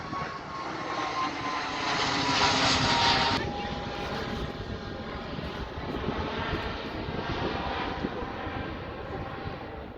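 An EasyJet airliner's engines roar at Birmingham airport, a steady broadband jet rumble that swells louder for the first few seconds, then settles into a sustained, slightly fainter drone heard from nearby with no talk.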